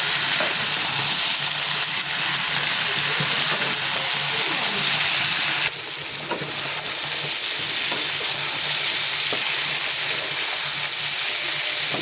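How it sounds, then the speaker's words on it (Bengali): Eggplant frying in hot oil, with a steady, dense sizzle and crackle that runs close and loud for the whole stretch, dipping briefly midway and stirred now and then. "দেখুন ভাজা হয়ে এসছে"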